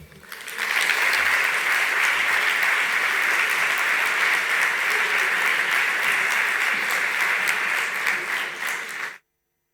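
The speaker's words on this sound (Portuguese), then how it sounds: "peço-vos uma grande salva de palmas" An audience at an opening ceremony breaks into sustained applause for two guitarists, a dense, even roar of many clapping hands that lasts nearly ten seconds before stopping abruptly.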